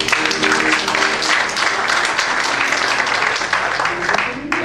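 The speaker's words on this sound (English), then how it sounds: "Let's give this choir another round of applause." A church congregation at a Baptist service gives the choir a round of applause, dense steady clapping filling the room continuously, with some voices and tonal sounds mixed underneath.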